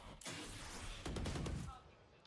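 Rapid gunfire in Valorant on the Icebox map during a VCT Pacific playoff match bursts out in quick shots beneath an excited caster's commentary.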